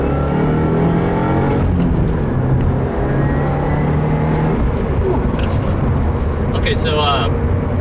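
2015 Subaru WRX with a Stage 1 tune pulling under boost in second gear, a loud continuous engine drone with rising tones and brief whooshing bursts near the end.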